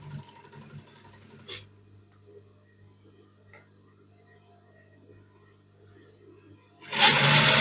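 A Brother LZ2-854-3 sewing machine runs a small zigzag stitch, giving quiet mechanical ticking and whirring, then a loud burst of fast running near the end.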